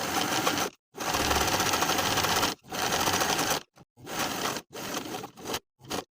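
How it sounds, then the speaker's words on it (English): A sewing machine edge stitches close to the raw edge around the bottom hem of a sweater in close, loud bursts, with several short pauses between runs. "I'm just going to edge stitch close to the raw edge all the way around the bottom hem."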